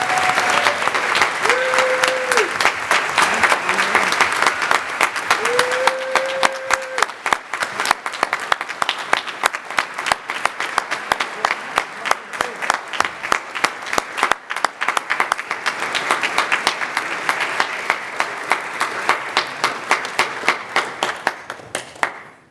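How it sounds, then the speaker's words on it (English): Sustained applause fills a city council meeting room in Lynn for an honoured speaker, with steady hand clapping from a seated audience that is loud at first and then thins into scattered claps, with no talk. "Let's give her a round of applause."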